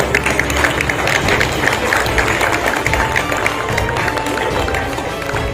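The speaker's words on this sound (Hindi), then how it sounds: "तालियां बजनी चाहिए।" A crowd at a teachers' award ceremony claps continuously, loud and dense, with murmuring voices mixed in throughout.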